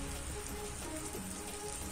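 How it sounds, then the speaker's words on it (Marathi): Heavy monsoon rain pours down in Murbad, a dense, steady hiss of water striking surfaces, continuous and even throughout the brief moment, with no voices. "मुरबाडमध्ये मुसळधार पावसाला सुरुवात झाली आहे"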